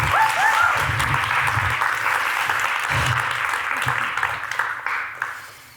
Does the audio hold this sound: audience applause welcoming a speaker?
yes